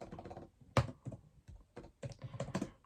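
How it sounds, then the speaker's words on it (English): Typing on a computer keyboard, a run of irregular close key clicks with one sharper louder tap, fairly quiet and alone. "So I'm going to type in GCSE Spanish"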